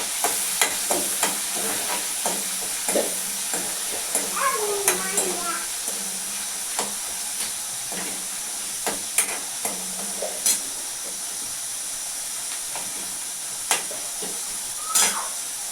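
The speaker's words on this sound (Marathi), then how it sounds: "कांदा मिरची दोन्ही पण परतून घेऊ" Onion and green chilli sautéing in a pan in a home Maharashtrian kitchen, a steady close hiss and sizzle with scattered clinks and scrapes of stirring, a voice speaking briefly over it.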